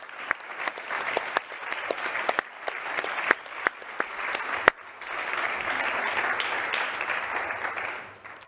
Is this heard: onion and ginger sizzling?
no